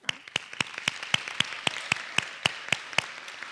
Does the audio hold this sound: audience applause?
yes